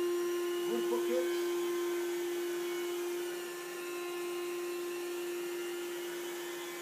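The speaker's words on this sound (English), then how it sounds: "The rotor vacuum." A professional rotary carpet-cleaning vacuum running with a steady, high-pitched motor whine and hum, constant throughout at moderate distance, with a slight dip partway through.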